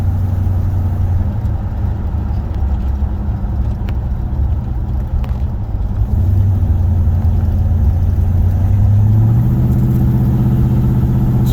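A 1976 Oldsmobile Cutlass Salon with a 455 V8 and a somewhat loud exhaust rumbles steadily at close range, a deep continuous drone that swells slightly in pitch and volume toward the end as the engine is revved.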